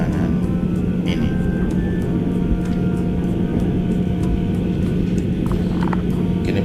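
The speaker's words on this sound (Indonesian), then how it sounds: "Kini pesawat sudah bersiap di ujung runway untuk take off selanjutnya menuju Bandar Internasional Lombok." A passenger airplane sits at the end of the runway before takeoff on a flight toward Lombok International Airport, its engines giving a steady, loud drone with a constant low hum throughout.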